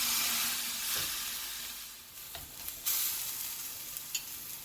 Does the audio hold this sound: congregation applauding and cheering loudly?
no